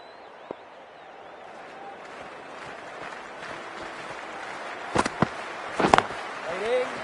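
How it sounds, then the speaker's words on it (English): A cricket stadium crowd buzzes in a broad, distant murmur, rising into scattered claps, sharp pops and whistles toward the end. "already the crowd is up and about"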